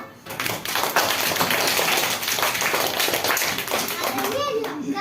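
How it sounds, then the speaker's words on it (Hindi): Applause from a young school audience welcoming a third-grade girl presenting advertisements at a class event: steady, busy clapping for several seconds, with children's voices chattering underneath. "तो तालियों से स्वागत कीजिए सिया का"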